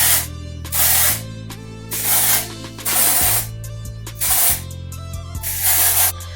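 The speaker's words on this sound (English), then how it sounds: "I'm gonna go ahead and spray this." Several loud hissing bursts of dry shampoo aerosol spray onto a synthetic lace front wig, about five in a row with short pauses between, close up.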